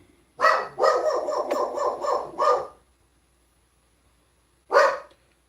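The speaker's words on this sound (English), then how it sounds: "Dog." A dog barks in a quick burst of several sharp barks close by, falls silent for a couple of seconds, then gives one more single bark.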